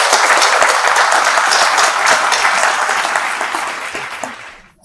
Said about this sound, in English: So big round of applause for this.